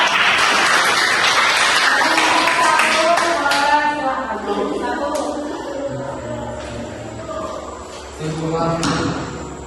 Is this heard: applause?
yes